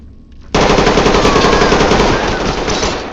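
Sustained automatic gunfire from the tactical shooter game Ready Or Not erupts abruptly after a brief quiet moment and rattles on loudly and continuously to the end.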